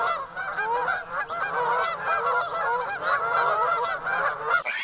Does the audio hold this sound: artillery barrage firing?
no